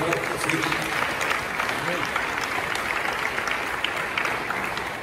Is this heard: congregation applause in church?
yes